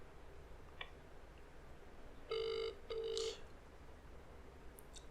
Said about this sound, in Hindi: ये मेरे फोन पे आप सुन सकते हैं स्पीकर बेल बज रही है।